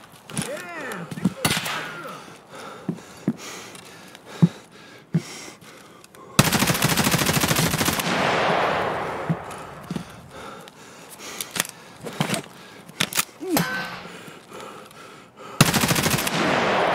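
Gunfire in the video game Escape from Tarkov during a boss hunt, with sharp single shots scattered throughout and two loud sustained automatic bursts, one lasting about two seconds, amid game ambience and breathing sounds.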